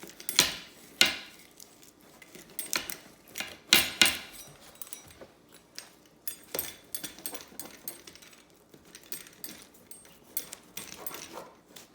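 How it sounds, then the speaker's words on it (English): A freshly baked homemade cheese pizza being cut into slices: irregular scraping and clattering cutter strokes on a pan, some sharp and loud, others lighter, spread across about twelve seconds without talk. "You can cut the pizza into slices."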